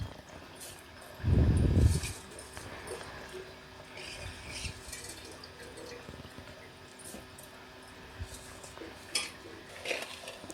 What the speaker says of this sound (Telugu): ఇప్పుడు ఈ స్టేజ్లో మనం కడుక్కున్న బియ్యాన్ని ఇందులో వేసుకోవాలి.